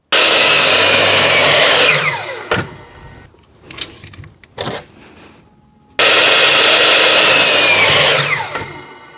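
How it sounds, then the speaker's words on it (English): A hand saw cutting timber at a shallow 5-degree angle during a mobile chicken coop build, loud close rasping strokes that stop for a few seconds of quiet knocks and handling before the sawing resumes. "This saw cuts beautifully."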